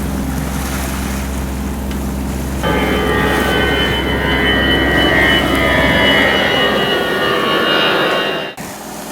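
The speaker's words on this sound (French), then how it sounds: "Il faut voir quelques avions aussi." Airplanes at an international airport give a steady, heavy roar. A higher jet-engine whine swells in partway through and holds loud and continuous before briefly dropping near the end. No one speaks.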